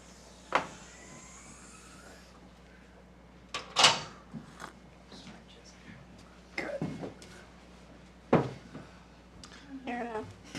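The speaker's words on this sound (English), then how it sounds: "We heard the door." A door opens and closes in a city utilities commission meeting room, with a few sharp knocks and clunks spread over several seconds, quiet room tone between and people talking faintly.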